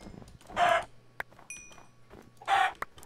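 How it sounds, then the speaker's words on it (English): Chickens in the Minecraft video game give two loud clucking calls about two seconds apart, with faint clicks and a low steady hum in between. "Look at all these chickens."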